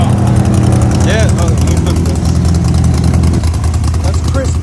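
A 2021 Toyota Supra 2.0 with a custom-built exhaust and hand-welded fuel tank idles steadily and loudly at a car show, a low continuous rumble running the whole time while people talk over it nearby.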